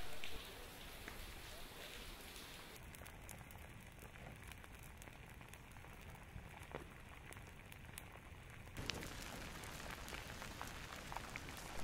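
Rain falls steadily near a slow-moving lava flow in Pahoa, Hawaii, a constant faint hiss of drops with occasional sharper pops and crackles, continuing for several seconds at low level without a break.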